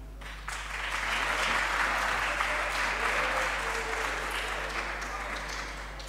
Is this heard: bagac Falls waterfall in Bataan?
no